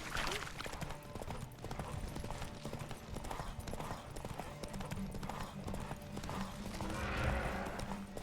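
Roach the horse gallops in The Witcher 3 on Death March difficulty, steady rapid hoofbeats pounding close, with an occasional whinny and game sounds behind them.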